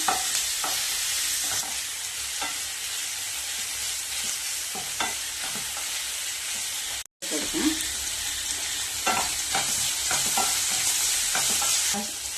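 Chopped tomato and white bird's-eye chilli sautéing in a pan for pasta, a loud steady sizzle with frequent spatula scrapes and stirs, cut by a brief silent gap midway.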